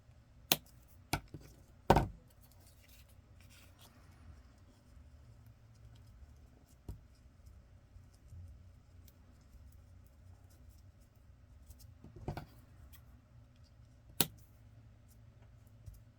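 Scissors trim excess paper or fabric from a miniature junk journal dress, close by and quiet. About half a dozen crisp, isolated snips are spread over a low, steady background.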